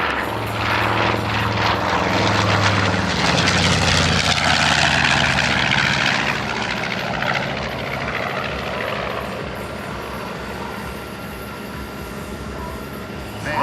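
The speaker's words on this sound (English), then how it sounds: "Here it is, Panchito's level bombing pass." A WWII B-25 bomber flies a level bombing pass at an Orlando air show, its loud piston engines roaring steadily overhead and swelling to a peak before fading slowly into the distance.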